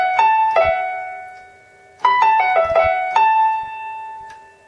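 A piano plays a repeated lick with grace notes, in two phrases of plucked-sounding notes that ring and decay, clear and close with no talking.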